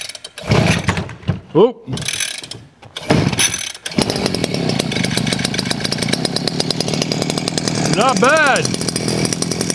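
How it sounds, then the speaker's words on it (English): Vevor 6-in-1 gas trimmer engine pull-started with the choke on: a few short recoil pulls, then the small two-stroke catches and runs steadily and loudly up close, with a brief rev near the end and a short spoken remark over it. "Let's see how many pulls it takes to start this thing."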